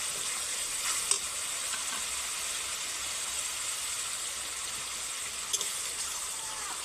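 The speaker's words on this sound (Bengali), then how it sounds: "পেঁয়াজটা হালকা ভাজার পর দিয়ে দেব টমেটো বাটা।" Tomato paste sizzles in a pan with lightly fried onion paste for a sarputi fish curry, a steady close-up frying hiss with a couple of brief louder spits and no talking.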